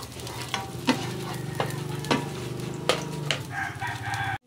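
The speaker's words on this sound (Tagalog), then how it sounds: "ilagay na po natin yung bawang. Halu-haluin lang po natin hanggang sa maging golden brown." Garlic frying in cooking oil while being stirred, a steady sizzle with periodic sharp scrapes of a utensil against the pan roughly every second, close and moderately loud, with no talking, cutting off abruptly at the end.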